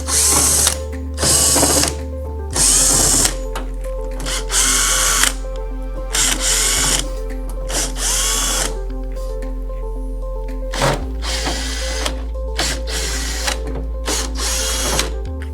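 A power drill whirs in repeated short bursts while backing screws out of the side covers of an EdenPURE GEN 3 heater, loud and close, with brief pauses between runs.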